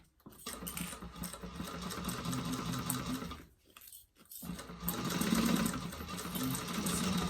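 A sewing machine runs back and forth, stitching over, back-stitching and stitching again across bag strap connectors on a convertible backpack, with a steady motor whir that breaks off briefly midway before resuming loudly.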